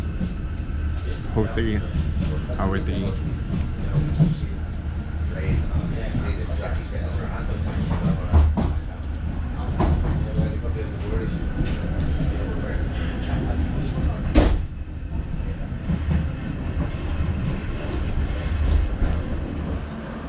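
A DART commuter train to Howth, Ireland rumbles steadily on the rails with a continuous low roar and occasional clanks, and a voice speaks briefly over the noise.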